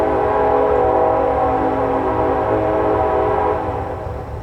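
A Canadian National Railroad train sounds its horn in a loud, sustained multi-tone blast that holds steady for about four seconds, with rolling low rumble of the passing cars underneath, fading slightly at the end.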